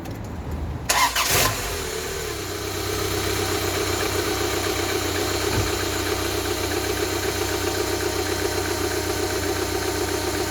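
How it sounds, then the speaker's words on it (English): A car engine with freshly changed coil packs and HT leads cranks briefly, catches on a cold start and settles into a steady, slightly rough idle, loud and close with no talk over it. "I will say this is a cold start, so it sounds a bit rorty."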